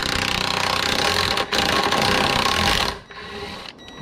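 Screws on a Yamaha FX SVHO ride plate loosened with a power tool and extension, a loud, close, continuous buzzing whir that pauses briefly, runs again, then cuts off and trails into quieter clatter.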